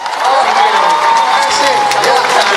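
University students at a Q&A with a presidential candidate in Kupang fill the hall with continuous crowd noise, scattered applause and cheering voices.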